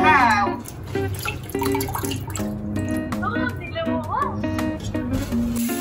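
Water runs and splashes as a pot is scrubbed and rinsed, with clinks of metal and voices talking over the steady flow.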